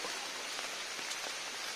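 Steady rain patters across a surface at Pallathadka Dam, a dense even hiss with occasional heavier drops, no voices.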